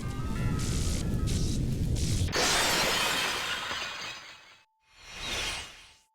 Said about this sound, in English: That was the sound of the airship just smashing to a million pieces.